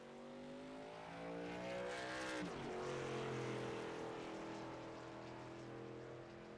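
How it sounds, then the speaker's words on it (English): Budweiser Silverado race truck rolling onto the track at Kansas Speedway during truck series qualifying, a loud sustained engine drone that swells as it passes close by with a falling pitch, then fades slightly. "Number 26 Budweiser Silverado rolling out on track."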